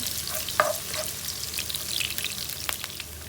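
Onions fry in hot cooking oil, giving a constant close sizzle with occasional sharp crackles and a brief clatter near the start.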